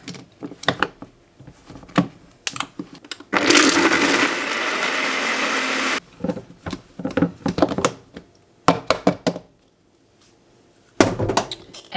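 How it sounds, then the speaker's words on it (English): Blender whirring steadily for a few seconds as it mixes chocolate coffee with unsweetened almond milk, loud and alone, set between bursts of clattering and handling sounds. "Now we can pop on the lid and blend it up."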